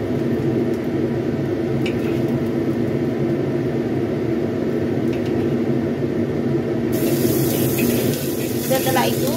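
Water poured off boiled green beans gushes steadily and loudly into a sink, a continuous close rush with a brighter hiss near the end.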